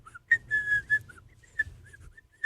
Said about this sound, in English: whistle or just whistle a happy tune.